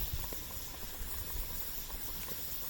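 Pressure canner over an open fire building up steam, a steady low hiss with faint bubbling and crackle, fairly quiet and continuous, no voices.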